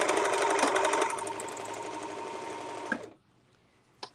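A serger stitches a decorative edge in one loud, steady run that slows slightly after a second and stops near the three-second mark, followed by quiet and a single soft click.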